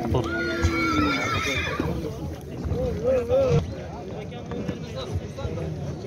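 A horse at a horse market whinnies with a rising and falling call, followed by another shorter neigh, over hoof clopping and background chatter.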